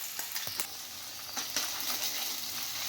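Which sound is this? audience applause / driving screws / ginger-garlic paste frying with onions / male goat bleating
ginger-garlic paste frying with onions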